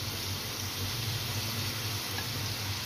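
Washed mixed vegetables frying in a pan over the flame for a home-style mixed vegetable dish, a steady close sizzle with low bubbling underneath, no talking.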